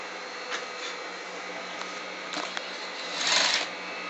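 A sewing machine runs in a steady whir, stitching a pocket bag onto a besom pocket, with a few faint clicks and a brief louder surge near the end.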